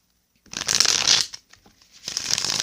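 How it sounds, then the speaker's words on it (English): A deck of tarot cards is shuffled by hand at close range, a riffling burst lasting under a second, a short pause with light rustles, then a second shuffle starting, with no talking. "I'm going to grab my cards now and start shuffling for my Leos."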